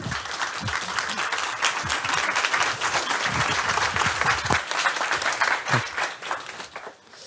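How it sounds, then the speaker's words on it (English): Warm audience applause greets a government minister for international development and foreign trade at a business climate presentation, a dense, steady burst of clapping lasting several seconds before fading at the end. "Give him a warm hand of applause."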